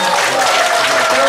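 Applause from an audience at a Korean traditional music performance, a short loud burst of clapping with some crowd murmur mixed in.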